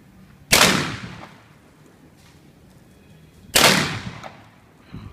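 A 12-gauge shotgun fired at an outdoor shooting range, two loud separate blasts about three seconds apart, each with a sharp onset and a decaying tail over low background noise.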